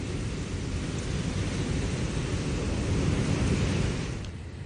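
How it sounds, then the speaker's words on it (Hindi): Heavy, continuous rain falling in Delhi, a dense steady roar of downpour that swells slightly toward the end, with no voices over it. "देखिए किस तरह से लगातार बारिश हो रही है।"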